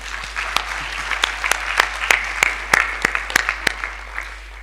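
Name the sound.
conference audience applause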